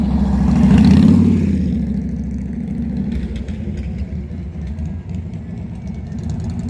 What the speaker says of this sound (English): Comes a motorcycle.